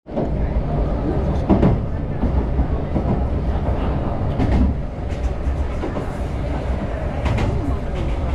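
An old Japanese train near Lake Kawaguchi runs with a constant loud rumble and rattle, and wheel clicks and clunks occur at intervals throughout.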